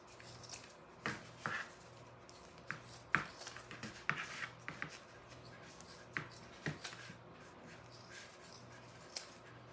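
Scissors cutting through canvas for a lace-trimmed Christmas tree craft, heard as a series of faint, irregular snips and crunches over a quiet background, coming in small clusters.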